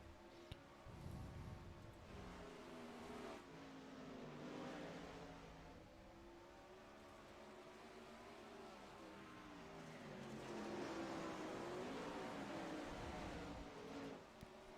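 Several 410 sprint race cars circle the Lernerville dirt track in an outlaw series finale, their engine drone rising and falling steadily at a distance with no talk over it.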